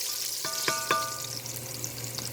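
Haitian stewed chicken with green onion cooking in a pot, giving a steady close sizzle with a few sharp clinks of stirring.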